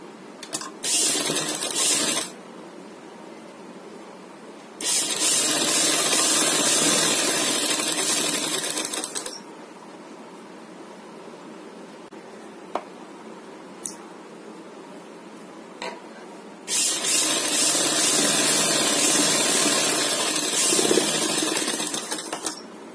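A sewing machine stitches along the edge of a poncha in three separate runs of steady, rapid whirring, each lasting a few seconds, with quiet pauses and small clicks between bursts.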